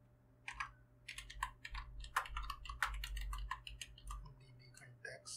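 Keys clatter on a computer keyboard in quick irregular runs of close, crisp clicks, with a low steady hum underneath.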